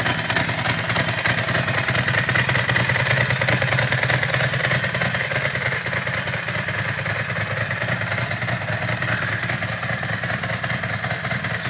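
Ducati Supersport 1000SS motorcycle engine idling after sitting unused, a close, loud, steady rapid thumping with mechanical clatter, running continuously without revving.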